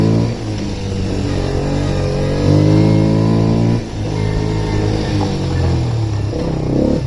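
A Yamaha Raptor ATV engine is held at full throttle nearby, a loud, steady harmonic drone that rises in pitch around the middle, drops briefly, then climbs again, with a rattling clatter underneath.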